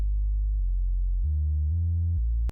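A pure, steady synthesized sine tone stepping between a few low pitches, loud and continuous, ending abruptly.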